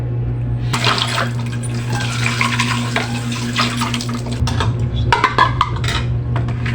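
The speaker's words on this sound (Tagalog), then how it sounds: "maghugas tayo ng pinggan" Running tap water splashing into a sink while dishes are washed, a steady close stream with a low hum beneath, followed by clinks and knocks of plates and utensils near the end.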